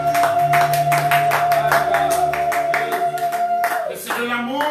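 A church congregation claps steadily in rhythm during a French-language service, loud regular handclaps ringing over sustained keyboard music.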